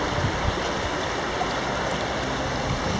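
Clear river water flows steadily on an island, a continuous close rushing wash with no breaks or voices.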